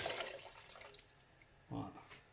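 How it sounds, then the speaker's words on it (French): Water pours into a pot for Moroccan harira soup, a short splashing burst that fades, then a second brief gush, close by and fairly quiet. "On peut mettre à peu près 3 litres d'eau pour les quantités que je vous ai dit."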